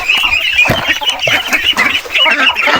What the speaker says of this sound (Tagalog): Pakain muna kami ng feeds sa aming mga nangingitlog na mga herders chicken.